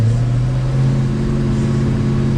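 A 1969 Ford Mustang Mach 1 with the Super Cobra Jet engine rumbles steadily and loudly from inside the car while driving, a deep continuous drone.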